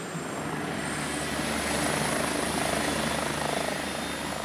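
Aircraft engines running at full power, a steady, loud broadband roar with rotor-like pulsing that holds constant throughout, with no voices.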